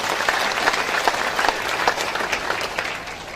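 Steady applause from a crowd at an Islamic religious gathering in South Kalimantan, many hands clapping at once in a continuous, moderately loud patter that holds throughout.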